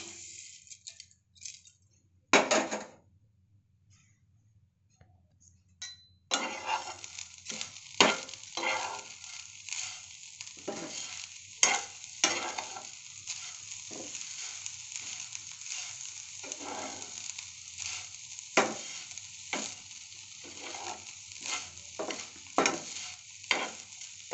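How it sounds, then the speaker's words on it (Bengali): Grated coconut and sugar are stirred in a pan for a coconut filling, a quiet scraping and sizzling that starts after a few seconds of near silence and runs on in uneven strokes with sharp spoon clicks. "প্রথমে আমি নারকেল পুরটা করে নিচ্ছি নারকেল দিয়ে দিয়েছি চিনি দিয়ে দিচ্ছি"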